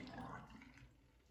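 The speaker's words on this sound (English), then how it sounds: "Pour out the water." Water poured out of a marble shaving cup, a short close splash and trickle that fades off over about a second and a half.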